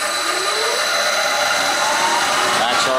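A milling machine spindle driven by a VFD runs wide open at max RPM, giving a loud, steady high mechanical whine with tones that climb as it spins up.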